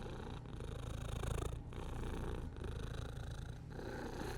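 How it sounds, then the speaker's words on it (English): A cat purrs close up, a steady low rumbling vibration in rhythmic breaths, each inhale and exhale marked by brief pauses, with no other sounds. "You got purrs? You got purrs for chat?"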